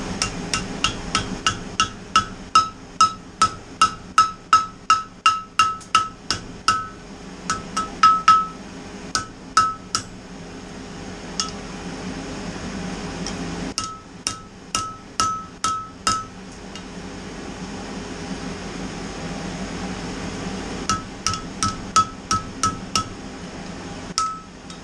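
A hammer strikes metal on an anvil while forging a fish ornament, with crisp ringing blows falling in quick rhythmic bursts separated by short pauses.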